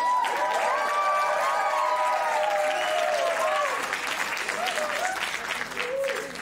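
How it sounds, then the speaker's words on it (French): A crowd at a university student show applauds as a young female singer takes the stage, a steady, full wash of clapping with a few scattered cheers and voices talking over it. "Une bonne main d'applaudissement pour elle."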